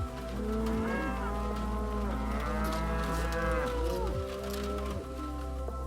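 Cattle on a farm moo loudly and repeatedly, several overlapping calls close by over a steady low background hum.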